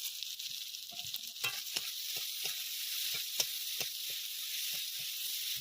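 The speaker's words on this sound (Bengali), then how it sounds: "ভাঙা বড়িটা দিয়ে দেবো," Broken lentil bori and chopped papaya frying in white oil with green chillies in a pan, a steady close sizzle broken by soft clicks and scrapes of stirring, with no voices.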